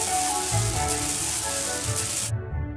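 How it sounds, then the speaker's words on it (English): A cartoon sandblaster in a kids' ship-repair game blasts a rusty anchor and chain with a continuous loud hiss, with faint game tones beneath it, before cutting off abruptly near the end. "Let's clean the anchor and chain with a sandblaster."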